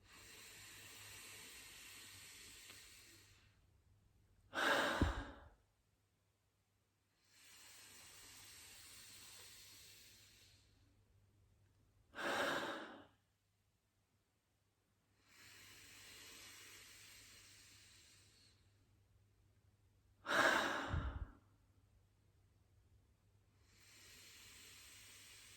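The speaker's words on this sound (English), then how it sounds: "breathing a little bit deeper now into the belly." Slow, deep belly breaths, three long hissing inhales each followed by a louder, rougher exhale, come close and even-paced with quiet pauses between.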